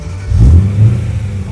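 A BMW M3 engine revs close by in two short surges, a deep, loud rumble that swells and eases within a second and a half, with no voices.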